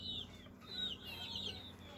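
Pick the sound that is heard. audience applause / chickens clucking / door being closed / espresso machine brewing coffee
chickens clucking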